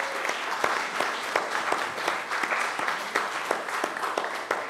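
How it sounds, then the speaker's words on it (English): College students at an undergraduate orientation applaud themselves, steady, loud, continuous clapping from a large room with sharp individual claps standing out throughout. "Please give yourselves a round of applause."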